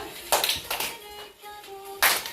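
A few sharp hand claps during a temple dance class, spaced unevenly, close and fairly loud, with a faint tone lingering between them.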